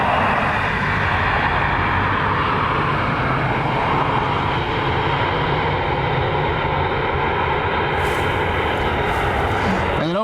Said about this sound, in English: Here's our Citation that's taxiing